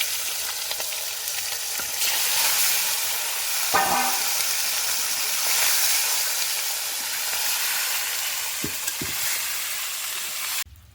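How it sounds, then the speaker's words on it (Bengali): Steady, loud sizzling of chicken frying in hot mustard oil, with a bright hiss that runs throughout, a few soft knocks, and a brief clatter near the end. "এবার একে একে চিকেনগুলো ভেজে নেওয়ার জন্য তেলের মধ্যে দিয়ে দিচ্ছে"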